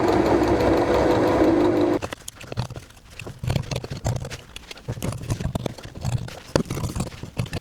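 A sewing machine runs in a steady, rapid whir for about two seconds while stitching a pirate costume mock-up, then stops, followed by close handling rustles and fabric shuffling.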